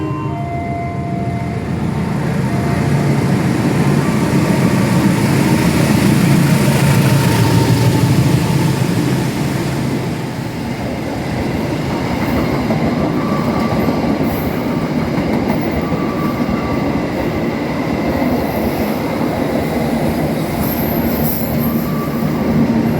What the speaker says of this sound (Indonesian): kereta api Sembrani tambahan akan segera melintas langsung di stasiun